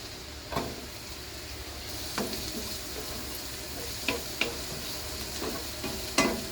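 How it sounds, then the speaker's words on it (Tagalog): Garlic and onion sautéed in a pan, a quiet steady sizzle broken by occasional spatula scrapes and taps against the pan, no voices. "Mix lang natin guys hanggang sa maging translucent na yung kanyang texture"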